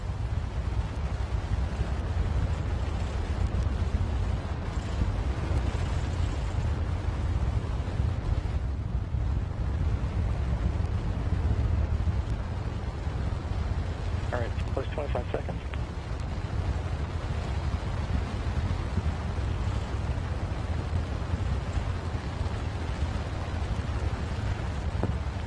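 Artemis moon rocket engine roaring through a hot fire test, a steady, loud, dense rumble that holds without a break from start to finish.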